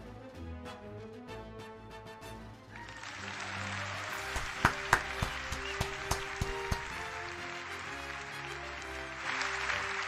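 Applause for someone taking a bow during a gaming session, a soft wash of clapping from a few people rising over music, with some sharper individual claps standing out.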